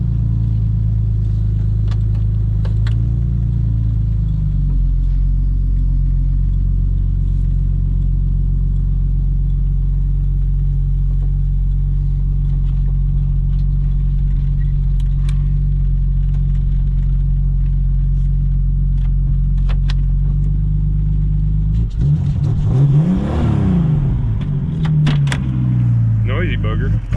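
A Jeep XJ engine starts and runs at a steady rumbling idle, then revs up loudly near the end before settling back down.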